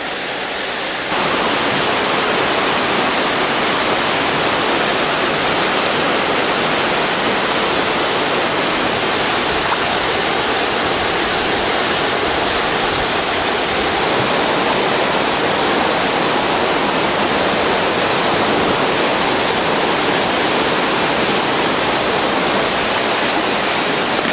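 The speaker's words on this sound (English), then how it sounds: "It's got the waterfall" A waterfall beside a hotel infinity pool roars as a loud, steady wash of falling water that fills the whole stretch, with no voices over it.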